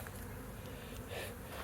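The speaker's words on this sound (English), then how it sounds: "Had quite a few bees leave the log and come out" Bees leaving a smoked log hive make a continuous close buzzing, steady and dense throughout the short stretch.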